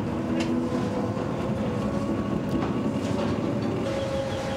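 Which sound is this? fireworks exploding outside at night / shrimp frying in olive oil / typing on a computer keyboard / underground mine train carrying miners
underground mine train carrying miners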